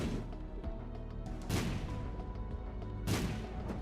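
Two bombs explode in The Binding of Isaac, each a sharp, loud burst about a second and a half apart, over steady game music.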